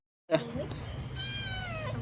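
A cat meows loudly and plaintively while being bathed, one drawn-out, rising cry after a short silence, close to the microphone, with some background voice underneath.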